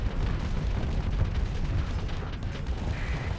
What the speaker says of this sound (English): Fire off a swarm of missiles